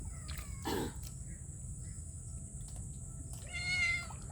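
A cat meows twice, a short cry early and a longer rising meow near the end, over a quiet room with a faint steady hiss.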